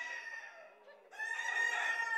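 A rooster crows loud and close, with hens clucking around it in a farmyard flock kept for eggs. A steady harmonic call dips briefly, then swells again, and no voices are heard.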